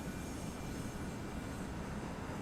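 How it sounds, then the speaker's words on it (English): Steady, loud roar of military jet aircraft engines spooling up for takeoff in the naval combat game Sea Power, a continuous broadband rush with no voices. "start taking off some planes"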